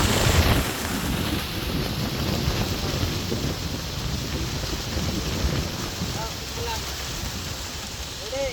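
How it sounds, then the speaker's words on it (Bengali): Strong wind gusts roar across the microphone outdoors by the water during fishing for snakehead under a cloudy sky, a loud continuous rushing that starts with a heavier blast and stays steady. "বাতাস কি বাতাস!"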